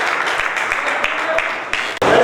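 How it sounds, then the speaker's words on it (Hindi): Audience applause for an elderly woman at a Jain temple religious gathering, a steady dense clapping that runs throughout and swells louder near the end, with voices over it. "जोरदार ताली बुढ़िया के लिए।"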